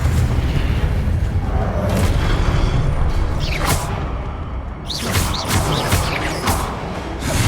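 Confringo blasting spell explosions in Hogwarts Legacy, a steady rumbling boom bed with whooshing bursts and sharp cracks near the end, loud and close, no talk over it.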